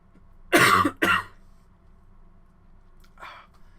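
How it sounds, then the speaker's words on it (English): Two harsh coughs in quick succession, close and loud, followed by a fainter third cough after a pause in a quiet room. "Cannot get rid of this cough."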